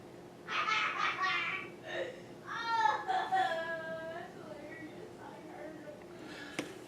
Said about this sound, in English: that is the sound of a child playing Xbox with his buddy